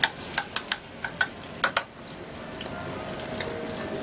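Garlic frying in a frying pan gives a quick series of sharp crackles and pops over the first two seconds, then settles into a softer, steady sizzle, with no talking.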